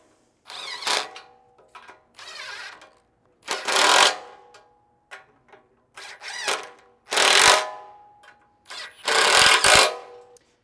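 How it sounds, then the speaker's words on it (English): Flange head bolts on a Jeep JK/JL/JT front bumper being tightened with a ratcheting tool, coming in several separate bursts of rapid clicking, loud and close, with quiet pauses between them and no talk. "Go ahead and tighten them down."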